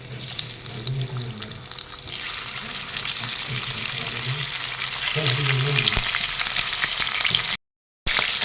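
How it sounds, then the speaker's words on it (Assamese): Fish pieces frying in hot oil in a wok for a fish and carrot curry: a dense, steady sizzle with bubbling and some scraping, running continuously before a short break near the end. "মাছখিনি মই ধুনীয়াকৈ ফ্ৰাই কৰি ল'লোঁ।"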